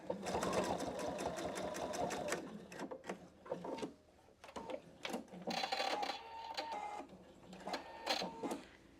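A Pfaff Expression 720 sewing machine stitching fabric in bursts: rapid mechanical needle clatter for about two seconds, then shorter start-stop runs with pauses, close and clear.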